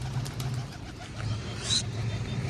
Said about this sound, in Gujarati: કબૂતર ઉપર બેઠા છે ને 4 કબૂતર ઉડે છે